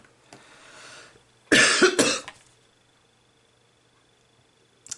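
A single harsh cough burst, close and fairly loud, in two quick spasms, then quiet room tone.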